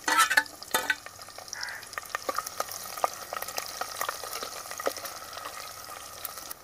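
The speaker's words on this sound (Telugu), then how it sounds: "మసాలా దినుసులు వేగాక ఉల్లిపాయ," Onions and green chilies frying in oil for chicken biryani, a steady close sizzle with scattered spoon scrapes and clicks against the pan, fairly quiet overall with a busier burst at the start.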